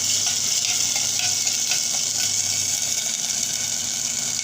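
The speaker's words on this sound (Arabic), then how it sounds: "هننزل نص كوبايه رز كده اهيت يا دوب، وايه نشوحها في الزيت" Half a cup of rice sautés in hot oil for rice kofta, producing a loud, steady hiss of frying with faint scraping stir strokes, close up and uninterrupted.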